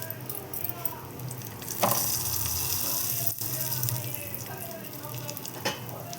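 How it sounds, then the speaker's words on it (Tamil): Mixer-ground spice paste hitting hot oil in a pan for chicken biryani, a close, steady sizzle with a few rattling clatters from the pan and utensils. "அதோட கொஞ்சம் எண்ணெயும் ஊற்றிக்கலாம். இப்போ மிக்சியில் நுணுக்கி வச்சதெல்லாம் அதில் போட்டுருங்க."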